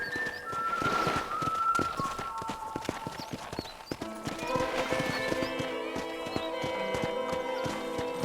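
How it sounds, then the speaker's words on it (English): Horse hooves clip-clopping at a steady gallop in the Red Dead Redemption video game, a brisk continuous rhythm with a horse whinny near the start and music or ambient tones layered underneath. "let's see if you can still ride a horse. Giddy up!"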